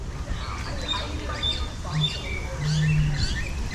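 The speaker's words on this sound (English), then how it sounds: "This is a bird area." Birds chirp and tweet in a zoo's bird enclosure area, a steady mix of small, repeated calls and squawks over a faint outdoor background.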